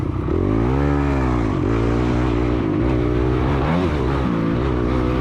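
A 2006 Honda CRF 250X dirt bike engine revs high during a woods race, its pitch rising and falling in repeated surges, loud and close with no talk.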